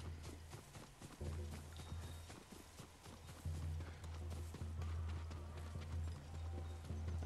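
A horse gallops in Ghost of Tsushima with quick, rhythmic hoofbeats, fairly faint but steady and unbroken across the whole stretch.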